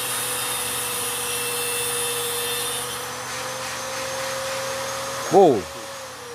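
An angle grinder runs off a portable 5 kW, 9 kWh battery generator, giving a steady, close motor whine with a constant hum underneath. A voice briefly exclaims near the end.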